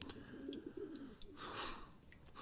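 A pigeon in a video game gives a low burbling coo, followed by a brief breathy flutter.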